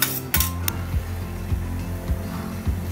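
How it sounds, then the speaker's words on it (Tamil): Cooked, cooled rice is added to tomato biryani in a pan, with a few sharp metal clinks up front followed by evenly spaced soft thuds and scrapes of a utensil against the pan, close and steady. "இந்த ஸ்டேஜில் நம்ம வடித்து எடுத்து வச்சுருக்க சாப்பாடை சேர்த்துருங்க"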